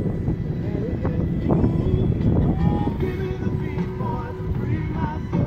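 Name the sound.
wind blowing outdoors while fishing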